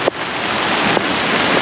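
Heavy rain and strong wind battering a family campsite tent, a dense, steady hiss with a couple of sharp thumps, loud and close with no voices.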